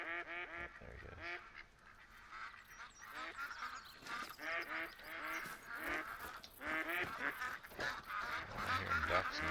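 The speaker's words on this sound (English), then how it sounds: "I'm hearing ducks now." Ducks in the hunting game theHunter: Call of the Wild, quacking and honking in a busy, overlapping flock that keeps up a repeated chatter from start to finish, at moderate volume, with no speech.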